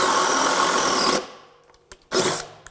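A DeWalt compact 20V cordless drill driver with a compact battery bores a hole, giving a steady, loud whirring drone that stops abruptly, followed by a couple of small clicks and a brief second burst of spinning.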